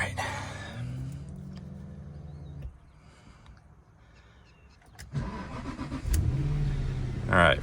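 A Jaguar car engine cranks, catches and settles into a running idle, then revs up; the engine note is fairly quiet and close, with a brief quiet gap before it fires again more strongly.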